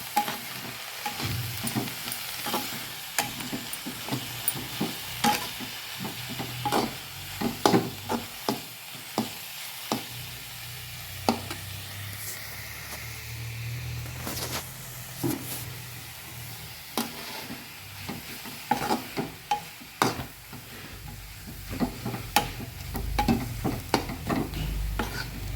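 A methi and besan mixture is stirred in a pan over the heat, a steady soft sizzle running beneath repeated scraping strokes of the spoon throughout, close and fairly quiet, with no voices.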